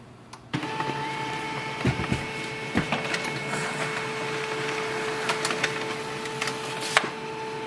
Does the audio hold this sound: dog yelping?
no